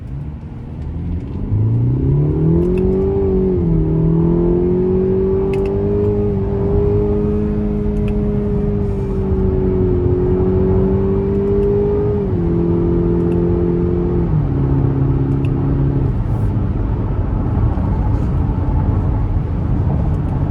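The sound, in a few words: 2025 Cadillac XT5 2.0T SUV accelerating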